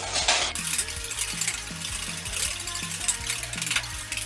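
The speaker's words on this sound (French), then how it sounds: "Nous allons à l'aide d'un fouet mélanger cette crème de ballon, donc faisselle, ballon et miel" A whisk beats Banon cheese cream with faisselle and honey in a bowl, giving a steady run of quick scraping clicks and rattles. The strokes are close and fairly loud, with no talk.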